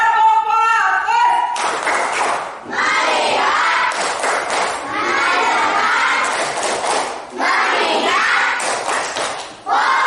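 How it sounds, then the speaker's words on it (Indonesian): Children in a Year 5 floor gymnastics PE class perform a tepuk fokus clapping routine, bursts of rhythmic group claps and chanting voices filling the room, with teacher and pupils speaking throughout. "kita sudah melakukan tepuk fokus"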